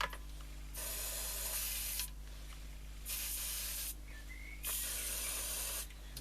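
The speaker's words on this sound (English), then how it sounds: "give it a little squirt spray" Contact cleaner sprayed into the switch of an Ever Ready, Vidor or Ultra transistor radio, three distinct hissing squirts of about a second each with short pauses between, close and fairly quiet over a low steady hum.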